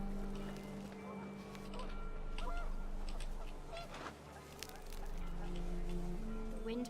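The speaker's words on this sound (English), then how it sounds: "The wind picked up and panicked geese appeared and quickly went." Panicked geese honk in the What Remains of Edith Finch video game as the wind picks up, with scattered calls over sustained tonal background sounds.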